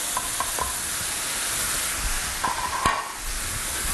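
Tomatoes frying in a pan for a sausage tagine, a steady loud sizzle throughout with a few sharp clinks of a utensil stirring against the pan, no talk.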